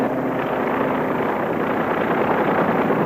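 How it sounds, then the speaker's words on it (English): A helicopter in flight carrying re-entry parties away from the ship Rendova after a 1952 atomic test, heard as a loud, continuous rotor and engine roar with no voices over it. "Re-entry parties are leaving the Rendova now by helicopter."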